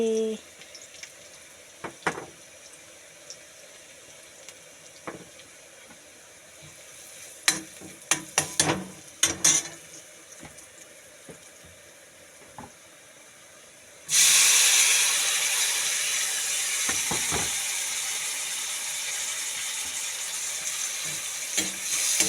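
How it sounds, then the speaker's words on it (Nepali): Gundruk soup cooking in a pan, with scattered scrapes and clinks of stirring, then a sudden loud, steady hiss of sizzling as liquid or ingredients hit the hot pan and keep bubbling. "मैले गुन्द्रुकको झोल बनाउँदैछु"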